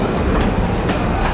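A metro train rumbles along with a steady low roar and faint rhythmic clatter of wheels, loud and close, no voices.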